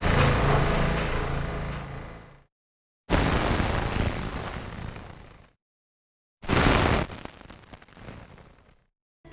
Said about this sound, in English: so I get some more gentle crackles to use for the tails